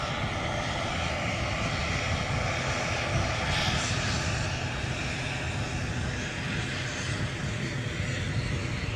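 Bombardier Global 350 business jet arriving at Edinburgh airport, a steady loud broadband engine roar holding throughout with no talk over it.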